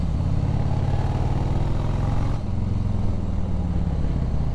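Harley motorcycle engine rumbling steadily up close while riding behind another rider, a continuous loud low throb with no break across the stretch.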